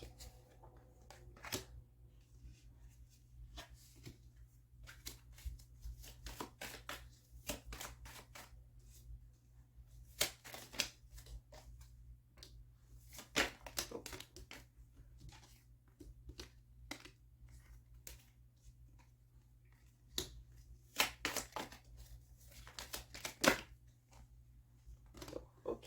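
Tarot cards are drawn and shuffled in a series of soft, close flicks and riffles, arriving in irregular bursts with quiet pauses between them.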